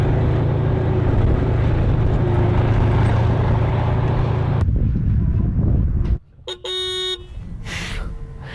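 A Polish Twardy tank engine rumbles loud and steady at close range, then the sound shifts and thins out before a brief sharper burst near the end.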